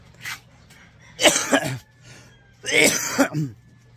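One person gives a few rough coughs and throat clears in two close, loud bursts separated by a short pause, with a low steady hum in the background.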